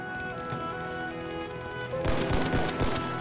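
Gunfire crackles in a shooter game, with sniper shots ringing out. A steady, moderately loud background of shooting turns into a denser burst of sharp shots in the second half, and nobody talks.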